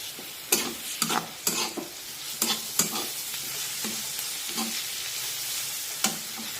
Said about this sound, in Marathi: आता यामध्ये अर्धा चमचा आलं लसूण पेस्ट टाकूया आणि एखाद मिनिट हे सर्व पुन्हा एकदा परतून घेऊया